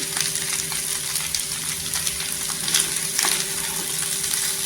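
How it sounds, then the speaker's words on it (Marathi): Dry potato sabzi fries in oil with a steady, dense sizzle that is close and continuous, with a faint scrape or stir now and then and a light hum underneath. "तेलावर परतलेली आहे बटाट्याची भाजी"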